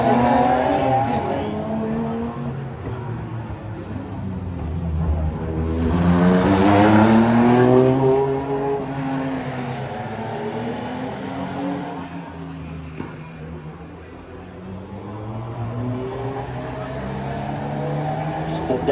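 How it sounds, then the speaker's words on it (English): A Datsun Triple S race car with a 2.4-litre six-cylinder engine roars past at a classic street circuit in Albany, its note swelling as it approaches and fading away, with a commentator talking over it. "the Datsun Triple S going through, a Tim Falconer."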